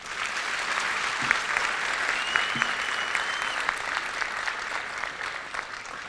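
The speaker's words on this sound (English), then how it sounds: "I want you to give this lady a special clap if you loved Joyce." Audience at a memorial tribute gives sustained applause for a lady, a dense wash of many hands clapping from a crowd, steady for several seconds with faint voices under it.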